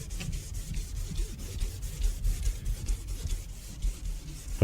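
A steady, close scrubbing and rasping as a polishing machine's clay disc rubs sandy dirt off car paint, with rhythmic swishes repeating throughout.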